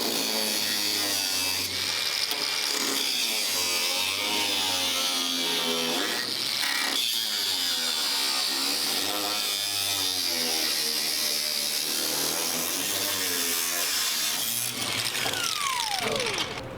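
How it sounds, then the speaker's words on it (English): Cutoff grinder slicing through a rusty sheet-metal panel on a 1939 Ford, a loud continuous high-pitched whine with a shifting pitch as the disc bites, running nonstop throughout. "I'm gonna grab the cutoff grinder and get this all cut"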